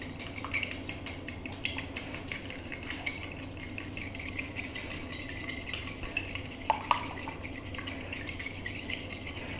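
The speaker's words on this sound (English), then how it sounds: "We have our eggs broken into our dish, and we're going to beat them up" Eggs beaten in a dish for French toast, with a steady fast scraping and tapping of a utensil against the dish, continuous throughout and fairly close, with a couple of brighter clinks near the end.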